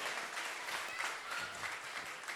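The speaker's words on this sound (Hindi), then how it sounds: "एक बार फिर से तालियां बजाओ अच्छे से।" Devotees at a Jain temple ceremony clap together in a soft, dense patter of applause, faint and steady for a couple of seconds.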